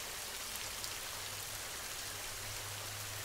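Steady rain falls without a break, a dense even hiss with a faint low rumble underneath and no voices.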